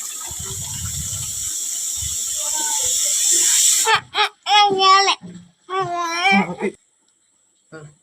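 Morning tap water running outside a Telugu family home, a steady hissing gush that fills the first four seconds, then cuts off as a person speaks close by.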